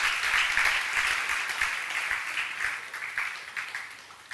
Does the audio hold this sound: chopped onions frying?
no